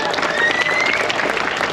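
Crowd applause at a drift competition podium ceremony, broad clapping and cheering under a loud announcer voice, with a whistle-like tone rising briefly through the noise.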